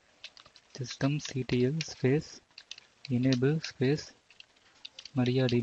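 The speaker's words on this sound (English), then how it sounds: "So type systemctl -restart -mariadb and hit enter." Computer keyboard clatters as a command is typed while setting up a MariaDB database service on a server, with quick light key clicks falling in the gaps of a man's close, steady talking.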